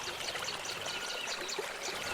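A cartoon sound effect of river water flowing: a steady, continuous rushing and trickling stream with no voices.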